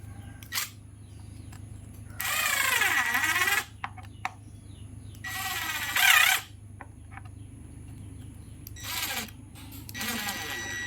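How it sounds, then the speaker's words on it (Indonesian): A DCA ADPL14E impact driver drives a screw into particle board in about four short, whining, hammering bursts separated by quiet pauses, close and fairly loud. "Kita lihat apakah impact driver ini enak digunakan untuk kerja-kerja ringan atau hanya enak digunakan kerja berat."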